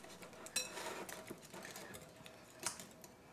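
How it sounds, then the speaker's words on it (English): A whisk clinks quickly and lightly against a bowl while shrimp salad dressing is mixed, a soft close rapid tapping with a couple of sharper knocks. "I'm getting carried away with the whisk"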